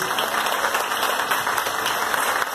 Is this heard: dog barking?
no